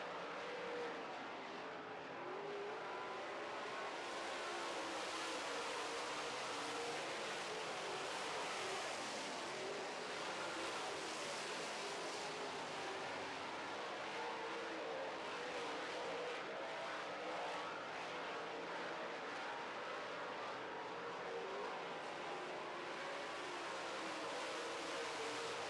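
Late model race cars roaring around a 4/10 mile oval dirt track in North Dakota, a continuous distant engine drone that stays steady throughout with no commentary audible.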